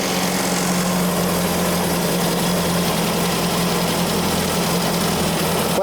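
Triumph TR4 engine running with the choke pulled in, a steady close, loud idle rumble with a constant low hum that continues unbroken throughout.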